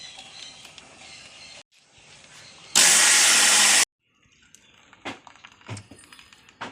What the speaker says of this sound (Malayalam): നാളികേരം കൂടി ഇട്ടിട്ട് അരച്ചെടുക്കട്ടെ